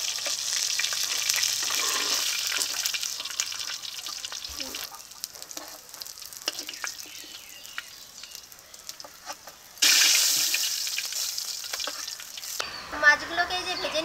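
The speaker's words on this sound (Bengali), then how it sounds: "এই দেখুন মাছগুলোকে একদম কড়া কড়া করে ভেজে নিয়েছি" Pieces of rohu fish fry crisp in hot oil with a loud, continuous close sizzle. The crackle softens and shifts as the pieces are stirred, then surges again sharply near the end.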